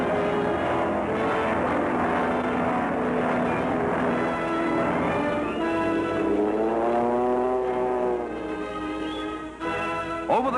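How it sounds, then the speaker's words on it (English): Propeller warplanes warm up for takeoff in wind and rain, their engines a steady loud droning roar with a rising and falling tone as they run up, dense throughout and alone with no speech. "Planes warm up for a hazardous takeoff through wind and rain."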